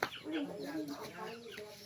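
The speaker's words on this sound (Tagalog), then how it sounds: "Manok na puti." A white chicken clucking in short repeated bursts close by, with a person's voice and movement around it.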